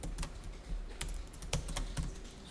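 Someone types on a computer keyboard entering receipt details, an irregular run of close, crisp key clicks with occasional louder keystrokes and no talking.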